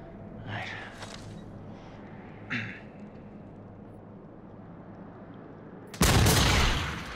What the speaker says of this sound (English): we're going to be shooting the lock here